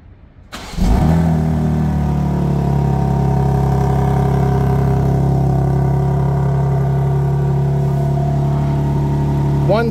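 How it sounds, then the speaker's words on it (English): A 2025 BMW M3 Competition LCI fires up from a remote cold start, a sudden loud crank and rev flare settling into a strong, steady high idle that holds to the end. "I just wanted to test out a remote engine start, cold start"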